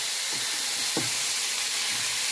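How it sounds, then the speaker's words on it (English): Browned ground meat for a poor man's goulash sizzles and hisses steadily in the pan while grease is drained, with a few soft scraping stirs breaking through the broad frying noise. "And then you're going to drain the grease."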